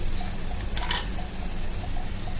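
Onion frying in a pan with coriander for a Malvani masala, a steady soft sizzle with a light stir or scrape near the middle.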